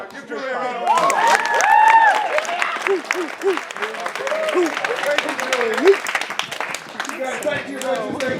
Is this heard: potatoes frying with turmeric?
no